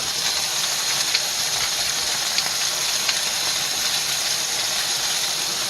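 Chicken cooking in a pan gives off a loud, steady broadband sizzle with faint crackles and pops, continuous and close for the whole stretch with no talking.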